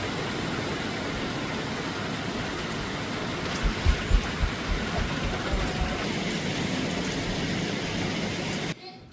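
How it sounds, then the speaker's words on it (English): Heavy rain pours outside on a rural Southern homestead, a steady broadband hiss with faint low thumps, ending abruptly. "It has been pouring rain pretty much all day long"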